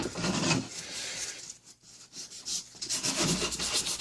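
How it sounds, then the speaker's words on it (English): Close hand sanding of a wooden Japanese keepsake box with 220-grit sandpaper along the grain: repeated rasping strokes with a short pause in the middle, then renewed rubbing. "I'm just going to clean them up with my 220 sandpaper"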